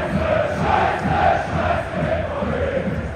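Schalke away fans in the stadium at the Bochum derby sing the Mythos anthem, a dense massed chant that rolls on steadily for the whole moment.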